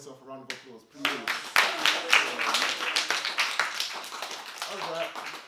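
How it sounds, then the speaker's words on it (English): A small audience at a spoken-word poetry session applauds after a call-and-response exercise, a voice briefly heard before a burst of clapping that stays fairly close and lively for several seconds, then begins to thin. "Give yourself a round of applause, please."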